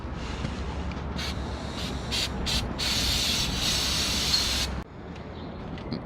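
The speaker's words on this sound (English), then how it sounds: "we hit it with a sunbreak cleaner and it's looking better" Brake cleaner sprayed onto a clutch from a GA16DET engine in a B13, a series of sharp hissing bursts that merge into a longer steady spray before cutting off abruptly, close and fairly loud.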